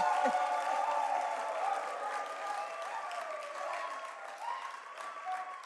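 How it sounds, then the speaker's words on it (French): Audience applause in a studio crowd, moderate clapping and some cheering beneath a sustained tonal musical bed, fairly even in level, with a voice briefly audible early on. "applaudissez encore, applaudissez encore."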